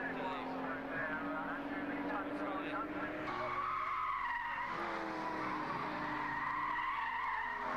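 Saloon race cars lapping a circuit at a 1991 BRSCC Slick 50 Road Saloons race, including a Rover and a Sierra, engine roar swelling and fading steadily under continuous race commentary.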